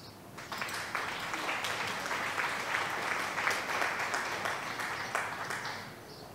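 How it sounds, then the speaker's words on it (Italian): Steady applause from an audience, a dense continuous patter of many hands at moderate distance, holding evenly for several seconds with no voices over it. "facciamo un bel applauso"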